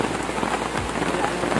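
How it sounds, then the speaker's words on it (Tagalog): Heavy rain pours steadily onto surfaces in a poor rural home in the Philippines, a dense, continuous hiss of drops close by, with faint voices in the background. "Lakas po ng ulan"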